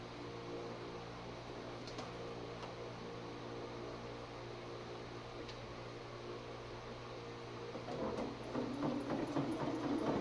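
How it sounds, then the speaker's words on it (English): A sewing machine stitches through leather for a junk journal project, running as a steady mechanical whir with a constant low hum, growing louder and busier with rapid rhythmic needle clatter toward the end; no one speaks. "It's sewing through it good."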